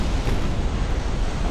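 A warship's flash fire erupts in a loud, rumbling explosion during a naval battle in Ultimate Admiral Dreadnoughts, a sustained roaring burst that fills the whole moment.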